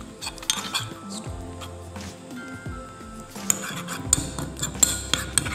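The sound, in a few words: mixing tomato and pomegranate paste in a bowl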